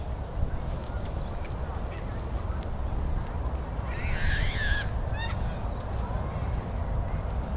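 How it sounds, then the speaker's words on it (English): Outdoor lakeside ambience at Lake Monger in Perth with a steady wash of background noise, and a brief burst of duck quacks partway through, moderately distant. "some ducks"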